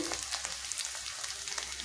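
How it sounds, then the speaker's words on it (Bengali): Onion, ginger and garlic fry in a pan with chili and turmeric powder for a raw banana kofta curry masala, producing a dense, even crackling sizzle throughout at moderate loudness. "পেঁয়াজটার সাথে আদা রসুনটাকে ভালো করে আমি ভেজে নেব"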